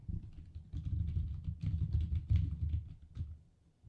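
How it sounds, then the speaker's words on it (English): Rapid, dense computer keyboard typing clatters continuously for several seconds, close and fairly loud, with no talk over it. "He's not really typing anything."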